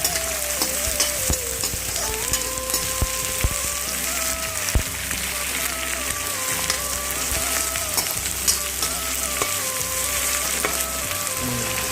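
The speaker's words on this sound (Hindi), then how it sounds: "प्याज डालो संगवारी देखो प्याज डालेंगे।" Onions frying in a pan with a steady, dense crackling sizzle that fills the whole stretch, with occasional louder pops and faint background tones.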